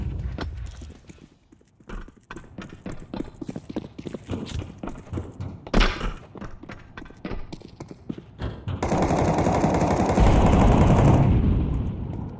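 A flashbang grenade goes off in a Counter-Strike 2 competitive match: scattered clicks and footstep-like taps give way to a sudden loud, dense blast that roars on for about three seconds before fading.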